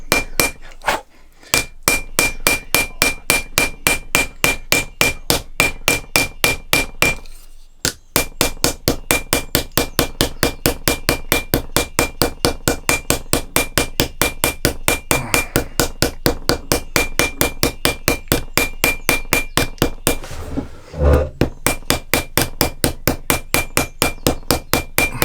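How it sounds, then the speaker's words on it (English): Rapid, steady hammering on an anvil while riveting a leather adze cover, with crisp, close, evenly spaced metallic taps continuing almost without break and only two short pauses. "And then I can rivet that down."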